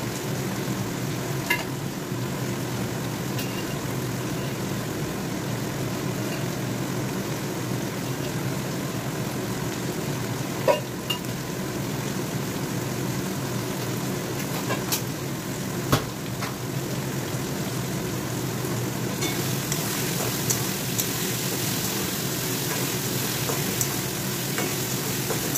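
Onion, capsicum and cauliflower sizzle steadily in a pan for masala chilli paneer, a continuous close frying hiss with occasional scrapes and taps of a spoon stirring, no voices.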